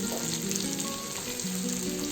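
Chickpeas sizzle and fry in a pan for a spicy cabbage and green peas curry, a steady close hiss with faint crackle and no talking.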